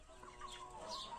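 Chickens from an early hatch cluck close by in a steady, busy stream of short calls, with no talk.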